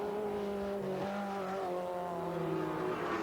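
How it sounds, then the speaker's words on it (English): A sports sedan race car brakes hard into a hairpin, its engine note sagging steadily under a faint tyre squeal as the wheels lock, the whole sound close and continuous without any voices. "locking up the brakes into the hairpin"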